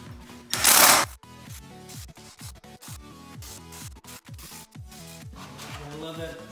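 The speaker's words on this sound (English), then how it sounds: "You do it with an impact gun." A 12-volt impact gun drives treadmill bolts tight with repeated short rattling bursts and pauses, close and fairly loud, after an initial loud noisy rush.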